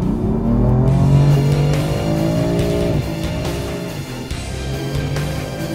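A BMW M4 sports car engine revs loudly, rising and falling in pitch with a deep exhaust growl, heard close and on its own.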